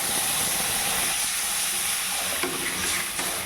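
Water poured into a hot pan of fried rice, giving a loud, continuous sizzling hiss of steam that stays steady for a few seconds with faint stirring.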